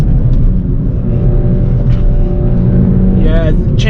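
A Hyundai i20N turbo engine pulling hard under acceleration, a loud, close interior drone with a brief dip as gears change; a voice talks over it.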